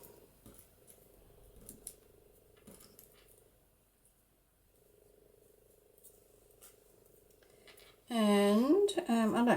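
Scissors snip through the selvage edge of a piece of fabric in one loud, close cut near the end, following quiet handling noise and a low background hum.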